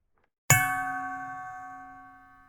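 A single bright metallic ding sounds suddenly after a moment of silence, then rings out and slowly fades over about two seconds, like a doorbell struck once in a storybook effect.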